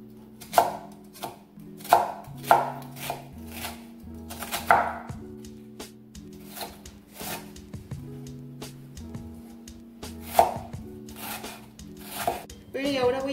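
A knife chops onion finely on a board, sharp close taps in an irregular rhythm, some quick runs and some spaced strokes, with a tonal background hum beneath.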